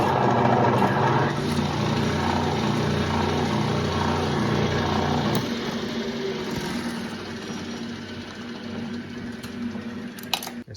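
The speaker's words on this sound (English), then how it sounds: "Now I need to drill a hole." A steady mechanical whir of a lathe spindle running as a spotting drill bores into metal, with a slight drop in pitch and load partway through, then a sharp click near the end.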